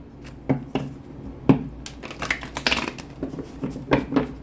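Tarot cards being shuffled by hand in a series of crisp riffling and slapping bursts, with distinct snaps at irregular intervals, close and moderately loud with no talking.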